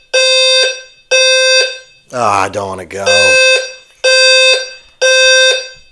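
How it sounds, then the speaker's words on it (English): A fire alarm blares in loud repeated bursts of harsh electronic tone, cutting off briefly while someone speaks over it, then resuming its steady on-off pattern. "And there's a fire alarm."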